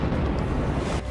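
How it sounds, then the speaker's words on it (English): A bomb explosion at the Boston Marathon finish line, a loud, dense blast that roars and rumbles for about a second before dropping away. "The first big explosion as runners cross the finish line."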